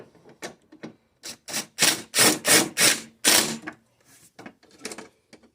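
Bolts are tightened down on a Toro CCR2000 snowblower, heard as a series of close, sharp ratcheting and clanking bursts in uneven rhythm, loudest in the middle, with quiet gaps between them.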